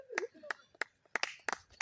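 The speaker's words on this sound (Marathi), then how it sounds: "टाळ्या" Several sharp, irregular claps of applause ring out at a festival children's running race. The claps are quick, separate and fairly close, with a voice calling between them.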